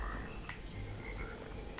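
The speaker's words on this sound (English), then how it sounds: "Oh, there's frogs." Frogs croak in the Immortal Redneck video game, a faint, steady chorus of croaks over low background ambience.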